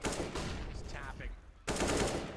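Gunfire from a rifle being tap-fired in a CS:GO match at a professional esports final, with a burst at the start and another loud burst near the end over crowd and game ambience.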